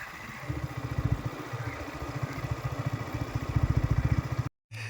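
A motorcycle engine idles nearby with a fast, even putter, pulsing steadily for several seconds before briefly cutting out.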